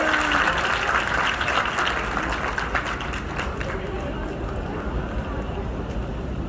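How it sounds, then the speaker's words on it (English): Parents and students applaud at a dental college white coat ceremony: a dense, sustained wash of crowd clapping that holds steady throughout, with a voice over it at the start. "Please give a huge round of applause, parents and students."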